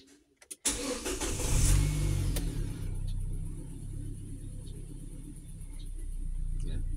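A car engine cranks briefly and catches, roaring up loudly before settling into a steady close idle rumble, with soft talk over it near the end.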